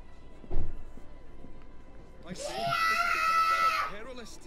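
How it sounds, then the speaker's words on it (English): Someone shouts in the background with a long, loud, high-pitched screaming yell, preceded by a brief thump, all heard behind gameplay. "As you can hear, my little brother is shouting and stuff."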